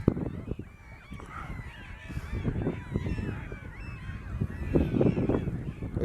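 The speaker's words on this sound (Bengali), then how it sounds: "খুব কাছ থেকে প্রচুর সংখ্যক গাল এখানে ডাকাডাকি করছে" A large flock of gulls calls close by on the coast at Bakkhali in cold winter weather, dense overlapping squawks and cries layered continuously over a low rumbling background.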